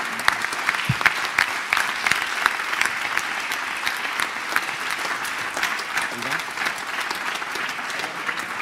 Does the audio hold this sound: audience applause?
yes